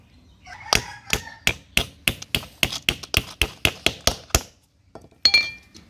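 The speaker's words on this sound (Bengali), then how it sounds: "এটা একটা পেরেক দিলাম, আর একটা পেরেকও লাগিয়ে দিচ্ছি" A hammer strikes a nail into a homemade gardening tool made from discarded materials: about a dozen sharp, evenly spaced metallic taps close up, then a short pause and one final knock.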